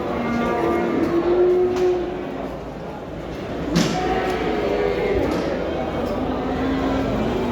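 A calf at the Xaçmaz livestock market in Azerbaijan lets out drawn-out moos, one early and more later, over a busy background of market noise and nearby people talking.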